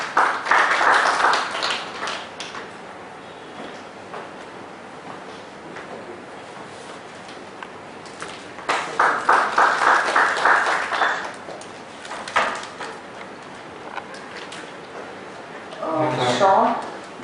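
Audience applause at a professional seminar on SEZ and STPI business vehicles, several bursts of clapping from the crowd, with stretches of quieter room noise in between and a brief tap near the end.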